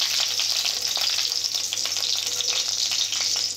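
Black cumin seeds fry in hot oil with a dense, loud, continuous sizzle and crackle that holds steady throughout, close by and with no voices.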